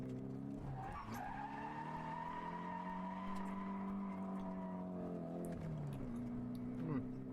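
Car tires squealing through a handbrake drift, with a sustained, wavering howl that holds for several seconds over a droning engine tone, then sweeps and eases off near the end.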